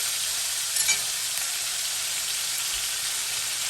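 A super thick marinated steak sizzling in a pan, a dense, even hiss that holds steady throughout, with a brief clink early on, close and alone without any talking.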